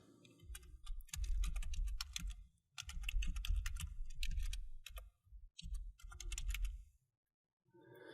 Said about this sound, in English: If I come back to the search box and I type income statement